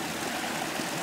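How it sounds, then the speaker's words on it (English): Forest creek in Juneau, Alaska flowing steadily, a close, dense broadband rush of water with no pauses. "This is whatever it's called. I don't know, a brook or a stream or whatever."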